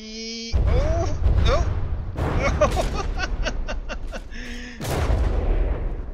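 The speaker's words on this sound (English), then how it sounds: "That shot actually hit, but it penetrated through, over-penetrated." Warship turret guns firing during a naval battle in the game From the Depths, heard as several loud booming shots with game sound effects between them, including a rapid series of sharp bursts in the middle.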